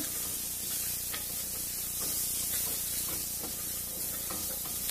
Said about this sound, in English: I'm putting 4 tablespoons of shallots. Stir it.